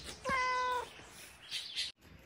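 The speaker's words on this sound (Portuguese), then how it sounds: "Mas você fica miando, a gente tá fazendo vídeo." A cat meows once, a clear, close, harmonic call lasting about half a second, followed by brief faint rustling and then quiet.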